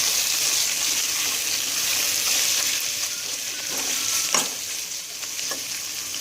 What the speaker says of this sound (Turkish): Bir tur karıştıracağım.